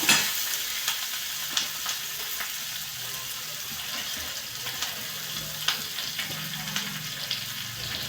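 Chopped onion fries and sizzles on low heat in a pan, a steady soft hiss broken by a few scraping stirs, moderately close with no talk.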